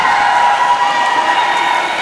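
A wrestling event crowd gives off a continuous roar of cheering and shouting, loud and dense, with no clear individual voices standing out over its short span.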